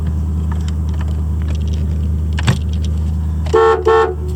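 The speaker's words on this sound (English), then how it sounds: "Horn." A 1987 Oldsmobile 442's horn sounds two short honks near the end, heard close up over a steady idling engine rumble.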